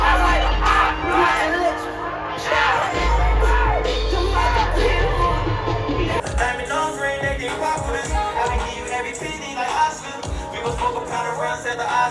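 A loud Rolling Loud Miami 2022 concert crowd cheering and yelling together, a dense continuous roar of many voices with music pounding underneath.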